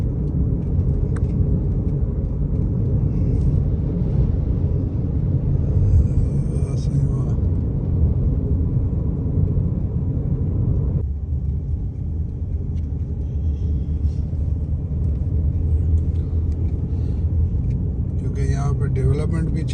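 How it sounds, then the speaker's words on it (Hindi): Dust storm wind in a developing area of DHA Phase 6, Islamabad, blowing as a loud, continuous roar for the whole stretch, shifting in intensity partway through. "तो अभी मिट्टी का तूफ़ान शुरू हो चुका है।"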